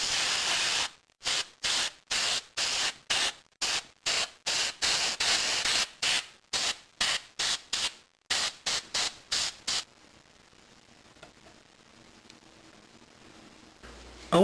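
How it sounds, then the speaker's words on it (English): Acrylic spray paint hisses onto a model car in about twenty short, evenly spaced bursts, close and crisp, followed by several seconds of faint background hiss. "from here on out I'm going to use acrylic spray paint, and now I'm going to paint the main color"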